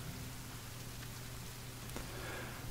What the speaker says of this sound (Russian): и дождь идет